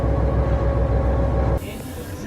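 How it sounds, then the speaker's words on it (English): An old Yugoslav passenger train rolls along with a loud, steady rumble and rattle of wheels and carriage, which drops abruptly to a softer, thinner running noise partway through. "What a cool train."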